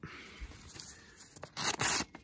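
A stainless C20 steel blade on a flat lock knife slices through a sheet of paper, giving a couple of short, crisp rasping strokes close by in a quiet room.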